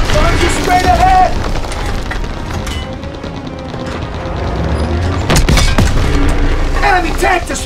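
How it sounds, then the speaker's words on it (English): Tank explosion in the World War II shooter Call of Duty WW2, heavy booming blasts and rumbling battle noise with gunfire, loud and close, with shouted voices mixed in over the combat. "Enemy tank destroyed!"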